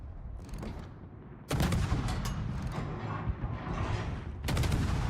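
Warship guns boom in World of Warships as a cruiser fires arcing salvos over an island. The rolling, overlapping heavy gunfire swells louder midway and again near the end, with no talk.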